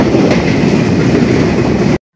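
A train rumbles along steadily at close range, a dense, continuous roar of wheels and carriage noise that cuts off abruptly.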